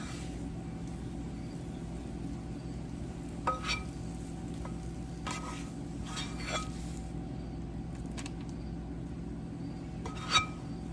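Egg spread in a hot pan as the base of a low-carb breakfast pizza, a steady low sizzle throughout, broken by occasional light scraping and clinks from a utensil.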